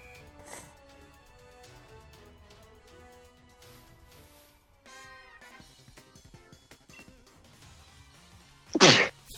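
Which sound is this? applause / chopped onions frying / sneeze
sneeze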